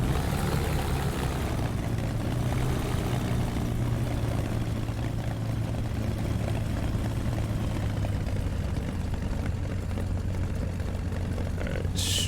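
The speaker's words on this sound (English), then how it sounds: "we can go ahead and taxi out to the runway" A Bf-109 piston fighter taxis toward the runway in DCS World, its propeller engine droning steadily at a low, rough idle with a constant hum and no voices over it.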